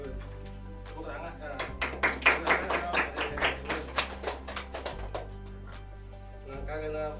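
Classroom group applauds, a burst of uneven hand claps that swells and then tapers off over a few seconds, with a steady hum beneath.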